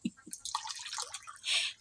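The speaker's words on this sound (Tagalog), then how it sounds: "Lalagyan pa niya ng tubig." Water is poured into calamansi juice, starting with a couple of drips, then a bright splashing trickle that ends in a short gush, close and fairly quiet.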